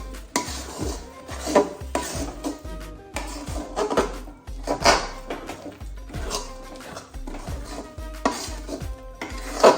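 A spoon scraping and clanking repeatedly against a pan while ghee ladoo mixture with cardamom is stirred, in a steady rhythm of close metallic knocks and scrapes.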